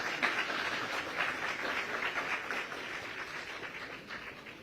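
An audience at an interview event claps steadily at moderate volume, an even patter of many hands that fades slightly near the end.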